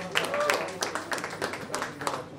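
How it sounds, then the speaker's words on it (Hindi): Audience applause at a YouTube channel launch event, a crowd clapping in a dense, uneven patter that fills the room at moderate loudness, with a voice mixed in. "उनके लिए तो तालियां बजी"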